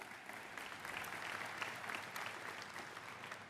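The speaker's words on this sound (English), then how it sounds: "His retirement, you can clap to that." Congregation applause at a Southern Baptist convention in a large hall, a moderate, even wash of clapping that holds steady for a few seconds, somewhat distant and without voices over it.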